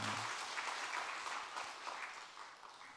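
A church congregation claps steadily at a worship service, a dense, even wash of hands that carries on without a break, with no voices over it.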